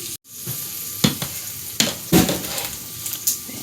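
Food sizzling and frying in a hot pan at home, with steady crackle broken by several louder stirring scrapes and clatters; no talking.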